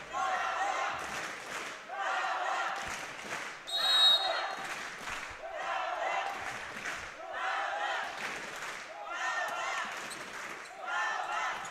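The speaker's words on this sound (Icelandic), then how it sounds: "Þetta heyrið í áhorfendum." Spectators at a men's top-division volleyball match between KA and Þróttur Fjarðabyggð chant and clap in loud rhythmic bursts, repeating cheers filling an indoor hall.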